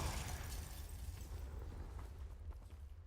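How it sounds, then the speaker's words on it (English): Explosion from a Confringo spell in a Harry Potter video game: a loud, rumbling blast at the start that decays into a long, crackling low roar over a few seconds. "Blew up the dark wizards."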